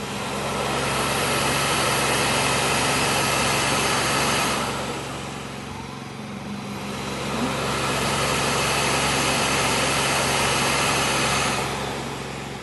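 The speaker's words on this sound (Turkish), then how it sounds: "Çok güçlü bir makine sesini kısamadık." A Bosch robot vacuum cleaner runs with a loud, steady motor whir and a low hum. The noise dips briefly midway, then returns to full strength.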